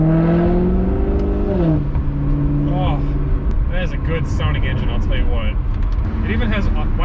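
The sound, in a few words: Maserati GranTurismo MC engine running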